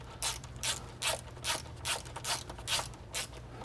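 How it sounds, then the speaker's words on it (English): A ratchet tightening 18mm subframe bolts on a BMW E90 M3, giving about nine even clicking pulls at a steady rhythm, loud and close against a low background hum. "Now I'll go ahead and tighten down our 18mm bolts."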